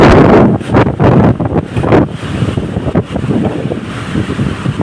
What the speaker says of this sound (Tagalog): pakalakas ng hangin at saka ulan dito